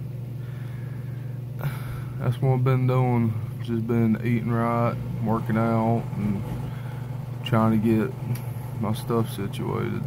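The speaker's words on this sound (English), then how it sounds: "Sorry about that noise, that's the washer and dryer going right now." A washer and dryer drone with a steady low hum in the background while someone talks close by.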